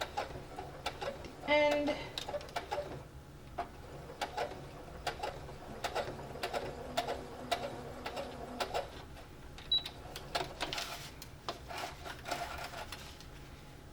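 A sewing machine back-stitches real fabric on an 18th-century stays mock-up, quick bursts of ticking, rattling needle strokes near the microphone with brief pauses, while a voice talks faintly.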